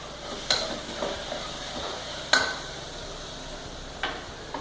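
Onions frying in a pan with ginger and garlic for beef biryani, a steady close sizzle broken by three sharp clanks of a spoon stirring against the pan.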